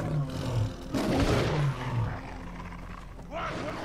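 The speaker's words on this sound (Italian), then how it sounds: "C'è anche una tigre." A tiger in the video game Far Cry Primal gives a deep, rumbling roar over a dense, noisy game soundscape, with someone talking over it.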